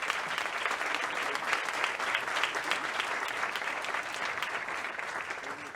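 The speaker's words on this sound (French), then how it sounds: "on peut l'applaudir s'il vous plaît" An audience at a literary short-story prize ceremony in honour of Marcel Pagnol breaks into sustained, dense applause, steady and fairly close, with no talking over it.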